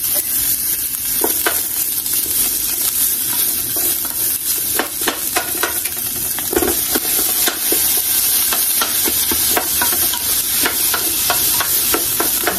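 Garlic sizzles in hot oil in a frying pan while pancit bihon is being cooked, a loud, steady crackling hiss broken by scattered pops and the scrape of stirring throughout, with no talking.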